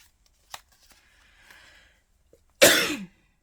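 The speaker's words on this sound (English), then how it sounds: "This cough is gonna go." A single harsh, loud cough bursts out near the end, after a quiet stretch with a faint click and some soft rustling.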